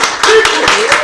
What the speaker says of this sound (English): No, we need to applaud this guy.